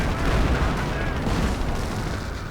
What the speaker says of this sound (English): Artillery getting called in on the Grenadiers.